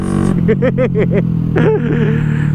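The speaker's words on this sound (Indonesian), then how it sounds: "Ini digas mulai 3/4 ya, itu perpet gitu masalahnya." A Honda Astrea Grand motorcycle with a 140cc engine in poor condition is revved, its engine sputtering and stuttering in quick uneven pulses, then catching again, close up and loud.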